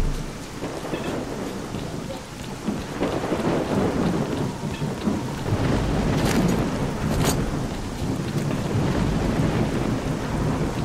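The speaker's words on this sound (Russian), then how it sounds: "Просто гроза вроде." Heavy rain pours steadily in a S.T.A.L.K.E.R.: Clear Sky thunderstorm, with deep thunder rumbling and swelling midway and a couple of sharp crackles near the end, all loud and without talk.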